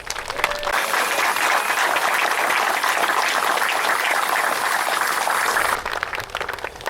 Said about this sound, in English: How about a round of applause for our Shay?